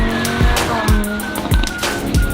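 A 2018 Lamborghini Huracan with 603 horsepower is driven off road, its engine droning loudly and close, with rising and falling revs and repeated rushing sweeps.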